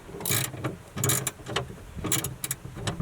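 A part is tightened down by hand on a turbo Camaro, making repeated bursts of metallic ratcheting clicks in quick runs with short pauses between them, close and fairly loud.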